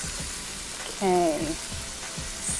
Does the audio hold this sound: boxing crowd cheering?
no